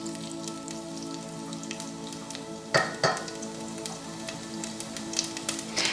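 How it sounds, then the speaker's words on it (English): Whole mustard and cumin seeds sizzling in hot oil in a pot: a steady crackling fry with scattered sharp pops as the mustard seeds begin to burst, close and moderately loud, no talking. "we're waiting for the mustard to pop"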